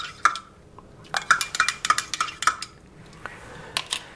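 A spoon clinks and taps against the inside of a cup while stirring coffee with creamer, a quick irregular run of bright close chimes, then softer swirling.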